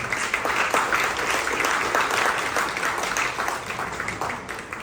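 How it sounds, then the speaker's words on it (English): A hackathon audience gives its sponsors a round of applause, dense and steady clapping from a crowd that fades slightly toward the end. "a quick round of applause again to the sponsors"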